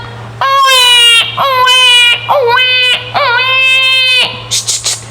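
A baby cries loudly and close by in repeated wailing bursts with short breaths between them, continuing almost without a break.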